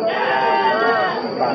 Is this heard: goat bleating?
yes